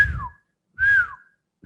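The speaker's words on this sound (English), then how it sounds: "The very common form of catcalling is sipol, okay? Wolf whistling." A human wolf whistle of the catcalling kind sounds twice, each a short sliding note, clear and close with a brief gap between them, and a third begins at the end.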